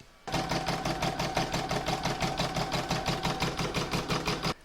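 An embroidery sewing machine stitches a positioning round for an in-the-hoop design, a close, even, rapid chatter of needle strokes that starts abruptly, runs steadily for about four seconds and stops, with no talk.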